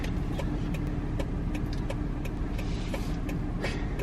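A car rolls close by and turns into a residential driveway, its engine a steady low rumble with tire noise filling the whole stretch, no talk over it.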